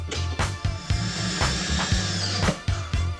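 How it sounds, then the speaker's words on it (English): A power drill runs during a house remodel, whirring close and loud with repeated short pulses and bursts in a choppy rhythm. "You better be drilling fast, because I am in no mood to hold this all day."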